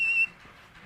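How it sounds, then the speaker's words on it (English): One short, shrill blast of a basketball referee's whistle at a junior high court, loud and close, cutting off abruptly into quiet room noise. "The little, junior high fucking basketball court whistle's the best."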